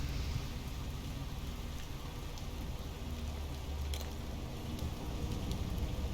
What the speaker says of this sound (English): I was wondering why I was getting rained on.